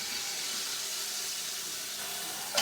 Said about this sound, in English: So we're searing it on both sides.